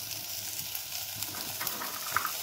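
Rice stirred and fried in a pan for a one-pot veg tehri, with a continuous close sizzle broken by soft scraping strokes of a spoon; no one speaks.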